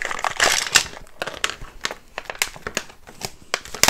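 Crinkling and crunching of plastic packaging as a Diamond Art Club kit is opened, a run of sharp, close rustles and crackles in uneven bursts with brief pauses between.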